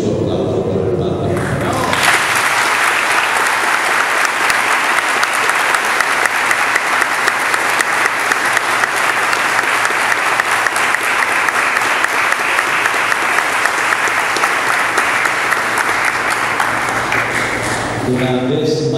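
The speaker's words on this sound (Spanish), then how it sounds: "necesitamos sentir su aplauso por el Papa." A church congregation in Carrasquero, Zulia, Venezuela applauds for the Pope, dense sustained clapping from a large crowd that starts abruptly and holds steady for many seconds before stopping.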